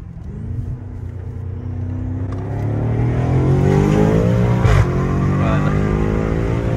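A BMW M5 with stage 2 tuning and a full straight-pipe exhaust accelerates hard, its loud engine note rising steadily in pitch through the gear, with a brief crackle midway as the roar carries on.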